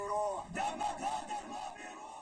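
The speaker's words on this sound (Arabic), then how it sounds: "تشييع كبير للشهداء ترافق معه هتافات وصيحات توعدت بالرد على الاقتحامات الإسرائيلية" A large funeral crowd chants and shouts together, with massed voices rising and falling in rhythmic bursts, loud and fairly near.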